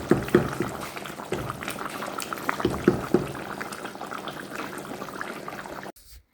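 Desi chicken simmering in a cooking pot at home, a steady soft bubbling and gurgling with occasional louder pops, close and fairly quiet, ending abruptly.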